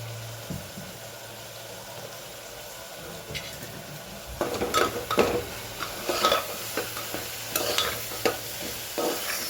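Dried red chili and Kashmiri chili stirred in a frying pan over a low sizzle, with the spoon scraping and clattering closer and louder in the second half.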